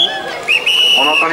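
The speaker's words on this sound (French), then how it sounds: "On entend les sifflets." Spectators at a soapbox car race at a hairpin bend in Saint-Bueil, France, blow sharp, shrill whistles, a few loud, close, sustained blasts.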